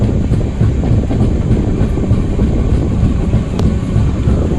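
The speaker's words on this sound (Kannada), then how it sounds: "ಸೊ ನಮ್ಮ ಟ್ರೈನ್ ಈಗ ತುಮಕೂರು ರೈಲ್ವೆ ಸ್ಟೇಷನ್ಗೆ ಎಂಟ್ರಿ ಆಗ್ತಿದೆ ಪ್ಲಾಟ್ಫಾರ್ಮ್ ನಂಬರ್ ಎರಡಕ್ಕೆ" A train pulls into Tumakuru railway station on platform two, a steady close rumble of wheels on rails with faint clatter throughout and no voices.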